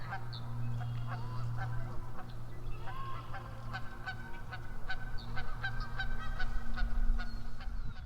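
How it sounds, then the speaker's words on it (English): Several geese honk back and forth in agitated, overlapping calls, moderately close, over a steady low background hum, on the Au Sable River in blustery early spring. "There are some geese that just aren't playing well together."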